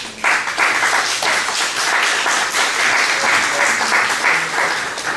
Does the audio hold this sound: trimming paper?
no